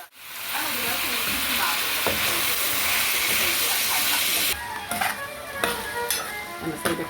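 Potatoes seasoned with salt and black pepper sizzle and hiss as they are stirred and sautéed in garlic in a pan, with continuous frying noise and scraping stirs that grow sharper toward the end.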